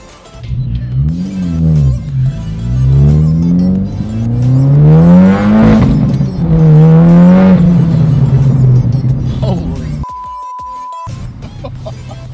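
An Audi S1 in a convoy, accelerating hard through several gears with loud rising engine sweeps, gear-change dips and a final drop to a steady idle hum, nearby and without talk.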